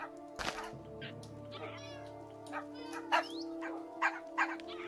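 A Minecraft ocelot-type cat meows several times in short, separate calls against steady game background tones, with dog-like yips mixed in now and then.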